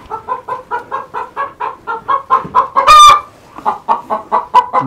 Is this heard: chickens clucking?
yes